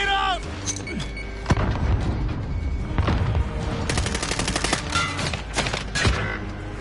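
Gunfire in a PS4 video game, dense overlapping bursts of automatic fire and heavy booms from near and far, with shouted voices over parts of the battle.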